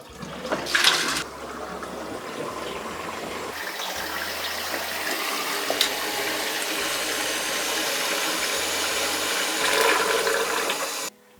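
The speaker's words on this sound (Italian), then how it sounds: "Se si preme il pulsante per 1 secondo e si rilascia, la cassetta scaricherà completamente." A Catis Ecostop dual-flush siphon in a toilet cistern doing a full flush: a brief clunk of the button, then a loud, steady rush of draining water for about ten seconds that cuts off abruptly.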